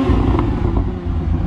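Exhaust of a Toyota Supra in sport mode rumbles loud and close, a continuous deep engine drone holding steady with slight surges throughout.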